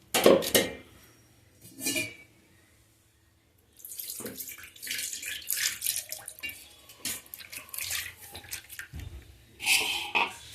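Water splashes and trickles as a grinder jar is rinsed and the thin dosa batter is poured out, with clinking of the metal jar and bursts of running water at close range, no talking.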